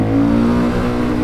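KTM 500 EXC supermoto motorcycle engine, a loud close single-cylinder roar revving hard under throttle in one brief sustained burst.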